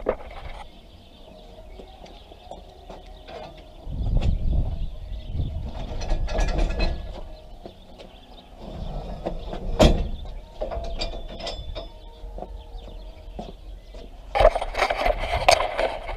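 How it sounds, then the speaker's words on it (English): A hitch-mounted crane and jack on a pickup truck are worked by hand, giving intermittent ratcheting clicks, metallic clunks and scraping in bursts, with no voices. "Put the jack on, use the crane."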